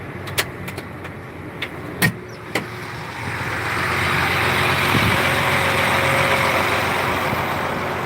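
A tractor engine idles in neutral out in a field at sundown, a steady low rumble that swells into a broader, louder drone partway through, with a few sharp clicks and knocks early on.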